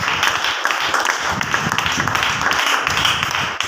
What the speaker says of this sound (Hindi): प्रभु के लिए आप धन्यवाद की ताली दे सकते हैं।